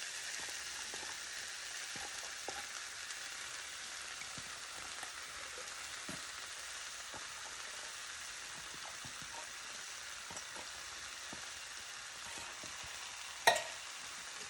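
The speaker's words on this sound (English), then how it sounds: "And just stir this around really well until it gets mixed." Black beans being stirred into a pan, a soft continuous sizzle and scraping with faint clicks of the spoon, one sharper knock near the end, no talking.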